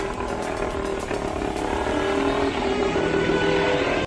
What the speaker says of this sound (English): a pretty cool piece of machinery is this 1931 mono wheel that had a 3-speed gearbox